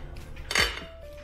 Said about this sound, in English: So let's cut a slice.